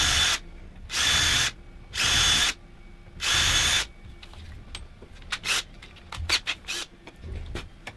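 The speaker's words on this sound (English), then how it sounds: "first using them as a template to drill the pilot holes" Power drill boring pilot holes through corner plates into wooden tool shelves: three loud, steady bursts of about a second each, followed by scattered clicks and light handling knocks, with no talk.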